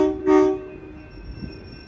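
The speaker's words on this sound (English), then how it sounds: "we're going to see holiday trains from Metra, CTA, the IRM, CPKC" A holiday train sounds a short, loud horn blast early on as it passes in Chicago, then fades into a low, steady rumble of rail noise.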